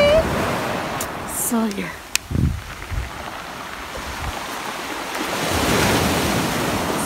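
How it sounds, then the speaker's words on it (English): Intense ocean surf crashes and rolls on a Jamaican beach beside a beachfront rental, a broad steady wash with wind buffeting the microphone and a brief spoken remark partway through. "See the waves, all them intense?"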